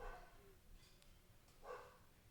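A large dog barks outside, a couple of muffled barks at the start and again near the end, heard at a distance through a quiet room.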